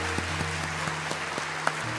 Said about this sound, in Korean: 다시 한번 우리 감사의 박수 드리겠습니다